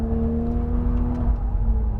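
A 2020 Toyota Supra's engine pulls hard under full throttle on a race track, a loud, steady in-car drone with a rising harmonic tone and low rumble throughout.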